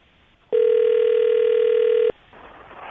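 An outgoing telephone call on a morning radio show rings through the line: one long, loud steady electronic tone about a second and a half, with faint line noise before and after.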